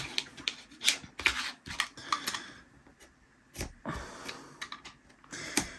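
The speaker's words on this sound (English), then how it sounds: "score this edge here first. It's not easy, but you've got to cut through" Plastic edge being scored and cut with a hand tool, giving close, intermittent short scraping clicks and rasps in uneven bursts, with no talking.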